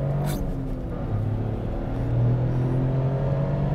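A manual Toyota GR Corolla accelerates at full power, its engine a loud, sustained drone rising steadily in pitch from inside the cabin, with no one talking.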